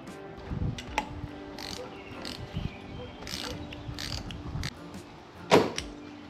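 Lock nut being tightened onto the propeller shaft of a Minn Kota Terrova trolling motor, giving a run of small ratcheting clicks and metallic taps, close by, with a sharper clack near the end.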